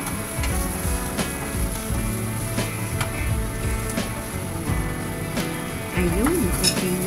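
Onion and garlic fry in a pan until brownish, a steady close sizzle with a few light clinks of utensils against the pan.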